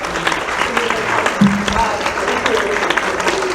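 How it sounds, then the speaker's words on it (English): Crowd applause fills a Los Angeles event hall during a medium's live show, a dense, continuous wash of clapping with a brief voice rising over it partway through. "Give them a round of applause."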